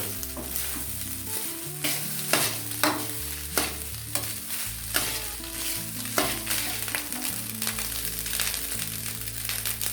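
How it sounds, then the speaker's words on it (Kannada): Rice being mixed in a hot pan for avarekalu chitranna: repeated scraping stir strokes every second or so over a continuous close sizzle. "ಇವಾಗ ಚೆನ್ನಾಗಿ ಕಲಸ್ಕೊಬಿಡಿ"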